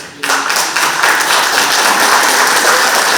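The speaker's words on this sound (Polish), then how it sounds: "Wielkie brawa." Applause breaks out from an audience at an award ceremony in Chełm, starting abruptly and holding as a full, even burst of many hands clapping.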